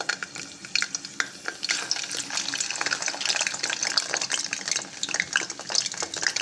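Samosas frying in hot oil: a steady bubbling sizzle with scattered crackles and pops and occasional stirring clinks, moderately close and continuing throughout with no talk.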